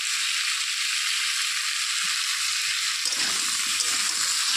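Pieces of catla fish coated with turmeric and salt fry in hot oil with a dense, continuous sizzle, joined midway by lower bubbling and crackling as the fish settles in the pan.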